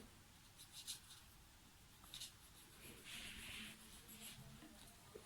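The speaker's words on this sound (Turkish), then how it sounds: "kalemimle buraya bir şöyle çiziyorum" A pen drawing a leaf shape on paper, giving faint, soft scratchy strokes in short bursts, quiet and close with no talk.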